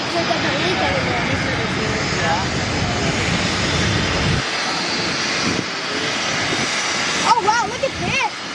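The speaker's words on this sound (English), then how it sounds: "There's a private jet right here." Aircraft engine roar from a private jet at Toronto Pearson airport (YYZ), a steady, loud broadband rumble throughout that drops in the low end midway, with people talking over it.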